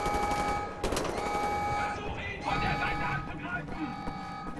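Gunfire in the video game Wolfenstein The New Order, sharp rapid bursts of shots over a steady tonal hum from the game, with a player talking over the action.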